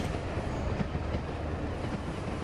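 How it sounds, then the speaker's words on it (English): A train rolls past nearby as a dense, continuous low rumble with steady broadband roar, fairly loud and unbroken, with no speech. "Oh, the train's coming by the sounds of things."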